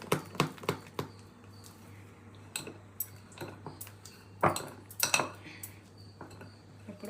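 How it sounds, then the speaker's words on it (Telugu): Salted batter for coconut burelu is mixed in a bowl. It sounds like scattered, quiet clinks and taps of a utensil against the dish, spaced irregularly over several seconds. "ఇప్పుడు ఈ రుబ్బుని బాగా కలుపుకోవాలి."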